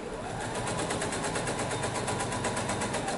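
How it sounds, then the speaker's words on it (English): Domestic sewing machine stitching down a crazy quilt piece, a steady rapid mechanical whir with even needle pulses running continuously throughout at close range, no voices. "I'm just gonna sew this piece down."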